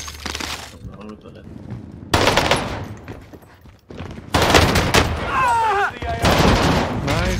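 Shotgun blasts in Call of Duty Warzone, loud sharp bursts arriving in separate clusters with gaps between, amid busy game noise.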